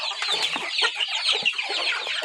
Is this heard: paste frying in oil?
no